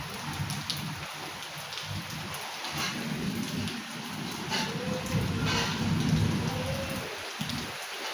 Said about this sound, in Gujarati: ધીમે ધીમે વરસાદ ચાલુ થઈ ગયો છે